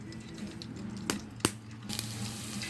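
Adobo sizzles in oil in a pan with onion, garlic and ginger: a steady low frying hiss with a few sharp clinks and pops, heard close and alone.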